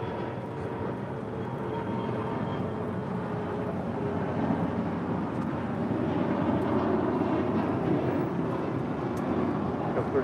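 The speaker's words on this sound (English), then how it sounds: "This is SkyWest Airlines Flight 3155 operating for American, departing to Jackson on a CRJ 700ER." A SkyWest CRJ 700ER regional jet departs at LAX, its steady broad engine roar holding loud and constant throughout, with no voices over it.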